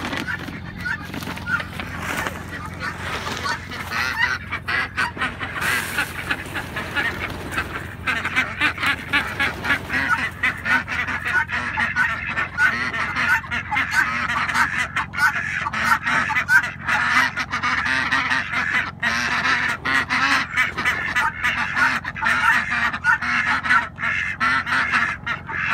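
Ducks, chickens and guinea fowl in a shared coop make a continuous dense chorus of honking, quacking and squawking calls, loud and close, with no talk over it.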